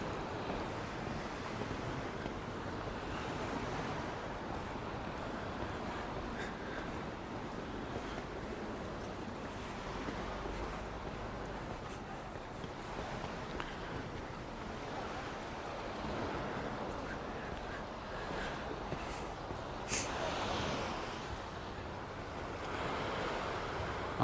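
Rough sea waves at Palmanova beach in Mallorca wash and break continuously onto the shore, a steady loud surf roar mixed with wind gusting across the microphone and no voices.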